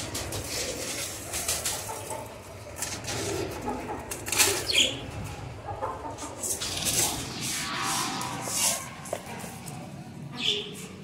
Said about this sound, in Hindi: कबूतरों को दे दें